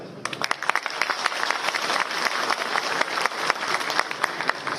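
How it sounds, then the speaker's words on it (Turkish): Dense applause from an audience at an agricultural and livestock fair in Çorum, Turkey, steady clapping throughout with a few sharper claps standing out near the front. "Bu alkış Ankara'dan duyulmaz yalnız."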